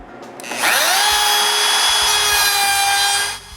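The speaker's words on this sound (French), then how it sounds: "sur la table de toupie, avec une mèche à feuillurer, ajustée à 1/4 de pouce, j'agrandis le trou" A router table fitted with a rabbeting bit set to a quarter inch enlarges a hole in wood: a loud, close, steady high-pitched whine and cutting rasp that spins up, holds for about three seconds, then cuts off.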